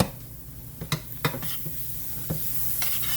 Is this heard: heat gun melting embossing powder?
no